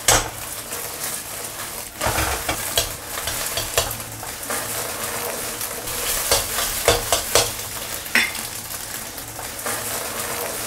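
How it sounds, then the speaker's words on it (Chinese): Eggs frying in a wok until golden, steady hissing sizzle punctuated by frequent spatula scrapes and metallic knocks against the pan, near and without talk. "要煎一煎，煎到这表面金黄色啊"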